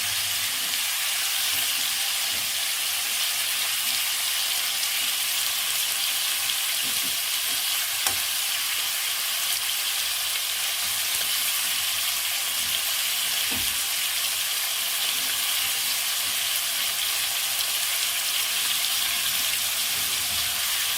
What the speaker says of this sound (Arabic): شوحها بس تاخد تشويحه في السمنه